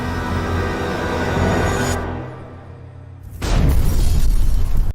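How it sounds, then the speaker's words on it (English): Explosions in a low-budget Christian film, a loud sustained blast that fades to a low rumble and then a second heavy burst that roars on, with no talk. "explosions everywhere."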